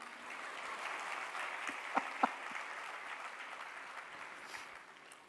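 An audience claps steadily through a spiritual discourse, a dense, sustained round of applause heard from within the hall, with a couple of sharper claps standing out before it tapers off.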